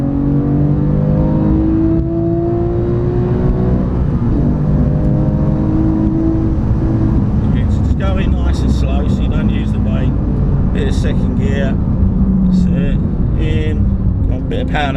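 A car engine revs hard while drifting, its pitch rising and falling in repeated surges as the throttle is stabbed and eased. Sharper bursts of tyre or exhaust noise appear in the second half.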